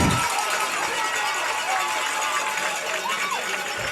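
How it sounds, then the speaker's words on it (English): The home crowd at a Gravette Lions high school football game roars steadily at a distance, a loud wash of cheering and chatter with a voice talking over it. "Gravette crowd getting loud as Harvey with the ball"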